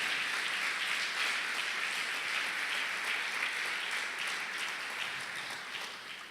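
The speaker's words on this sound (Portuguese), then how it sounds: "Vamos aplaudir a Jesus pela vida dos irmãos." A Baptist church congregation at a Sunday morning service claps together in a soft, even roll of applause that continues for several seconds and gently fades toward the close.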